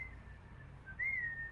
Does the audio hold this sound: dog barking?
no